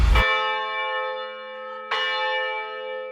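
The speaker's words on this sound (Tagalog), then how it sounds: "kapag umalingaw-ngaw na ang mga kampana mula sa kampanaryo nito" An antique church bell in Iloilo, Philippines rings with a loud clang and long shimmering decay, then strikes again about two seconds later, its tones lingering.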